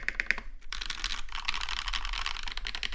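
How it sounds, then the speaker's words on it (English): Keys clack rapidly on a Satisfaction 75 R2 mechanical keyboard, with a few sharp taps followed by a dense run of close, crisp typing and spacebar presses, and no talking. "The spacebar captures that elusive via holy panda sound."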